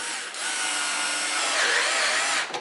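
Hitachi cordless driver drill driving a screw with one continuous high whirring run of about two seconds, close and loud, stopping abruptly at the end.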